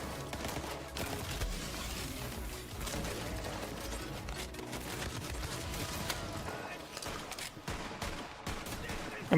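The Jacobs gun Unforgiven fires in Borderlands 3 amid a dense, continuous barrage of overlapping gunshots and mechanical clatter, with game effects layered throughout.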